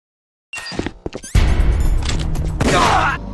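Gunfire in Metal Gear Solid: a few sharp opening cracks, then a dense, loud burst of rapid shots with booming low rumble lasting a couple of seconds.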